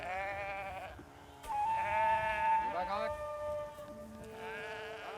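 Gotland sheep grazing on an island grassland bleat in several long, wavering calls, close and clear against quiet outdoor background.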